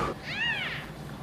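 A young kitten gives one high, rising-and-falling meow, close and clear over a low room hum.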